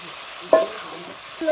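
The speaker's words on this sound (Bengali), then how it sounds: "দিয়ে নেড়ে চেড়ে কষিয়ে নিচ্ছি মশলার সাথে সবজিটা" Fried vegetables are stirred into a cooked-down spice paste in a pan for a Bengali fish-and-greens dish, giving a soft steady sizzle with a sharp scrape of the spoon midway and another near the end.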